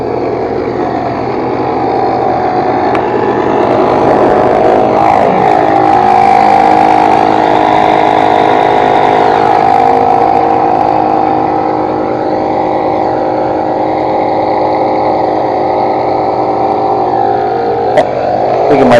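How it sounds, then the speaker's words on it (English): An air compressor inflates a slowly leaking Jeep tire, giving a loud, steady droning hum that runs unbroken for the whole stretch, with a faint click near the end. "I just wanted to air up that tire."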